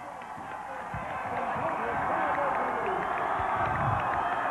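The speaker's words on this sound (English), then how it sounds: "Listen to the crowd." Crowd noise from fans gathered outside the arena during a Portland Trail Blazers vs Utah Jazz NBA game night, a steady dense roar that swells slightly, with voices mixed throughout.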